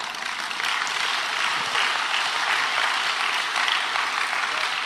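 An audience applauds continuously at a talk, a dense, even wash of many hands clapping that holds steady throughout without voices.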